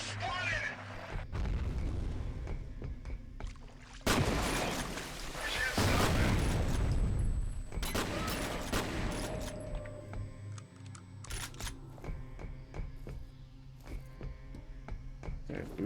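Shotgun blasts in the shooter F.E.A.R. boom out heavily in a few loud bursts amid other combat noise and clattering, with a person talking over parts of it.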